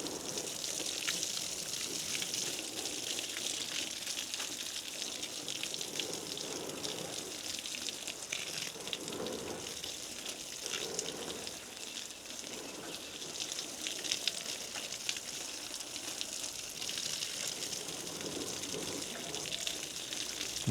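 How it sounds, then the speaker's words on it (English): Steady water splashing and gushing continuously while vegetables are watered in a home garden, close and fairly loud, with no talk. "I also water my vegetables here."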